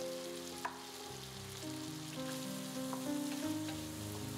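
Twice-cooked pork belly stir-fried in a wok, a quiet steady sizzle with faint scraping of a spatula and a low hum underneath, no voices.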